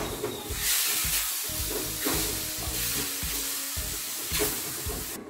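Mango and freshly chopped ingredients for habanero salsa sizzle loudly in a hot pan, a steady frying hiss broken by repeated scraping stirs, close and alone with no talk.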